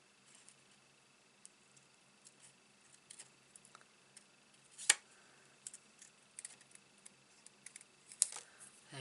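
Scissors cutting out a paper side panel for an A2 card, a quiet, sparse series of small snips and ticks with a couple of louder crisp cuts.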